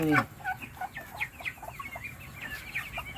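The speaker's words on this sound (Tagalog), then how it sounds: "itong mga manok natin." Backyard chickens cluck repeatedly in short, irregular calls at close range, with a louder squawk at the start and soft murmuring clucks continuing throughout over a quiet background.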